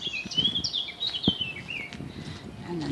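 A loud bird sings outdoors in Ireland, bright chirping phrases repeating near the listener across the whole stretch over faint rustling ambience.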